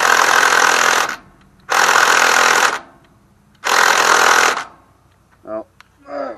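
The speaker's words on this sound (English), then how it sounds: "Oh, my drill needs to be charged." A power drill backs a T40 screw out of a Murray Select 17.5 hp riding mower with a 42-inch deck. It runs in three loud sustained bursts of about a second each with pauses between, and brief talk follows.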